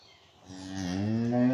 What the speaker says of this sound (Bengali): রেড ফ্রিজিয়ান একটা গরু